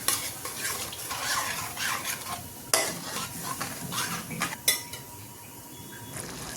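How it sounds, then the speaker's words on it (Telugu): A spoon stirs simmering tamarind pulp with halved green chillies in a pan for temple-style pulihora, scraping and clinking against the metal over a steady simmering sizzle, with a few sharper knocks standing out. "ఇప్పుడు ఒకసారి కలుపుకుందాం."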